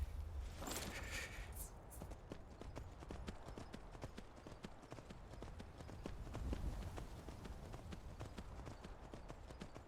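Horse hooves clip-clop at a steady walking pace in Skyrim, a rhythmic series of light, close knocks continuing throughout.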